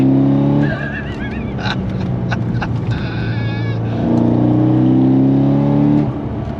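A modified C6 Corvette Z06 is driven hard through a corner and onto the throttle, its engine a loud, close roar that drops back briefly before surging again, with faint tire squeal and a few sharp transient noises.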